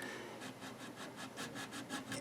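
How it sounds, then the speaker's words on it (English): A sanding stick works over a model A-10 Warthog aircraft, giving faint, steady rhythmic rasping strokes, close and continuous with no talking. "lightly take your sanding stick and start sanding it down"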